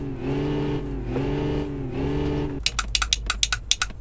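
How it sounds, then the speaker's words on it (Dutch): A car engine in a driving video game rises and falls in three loud, even revving swells, then gives way to a quick series of sharp clicking taps. "En we gaan zachtjes de motor laten opkomen."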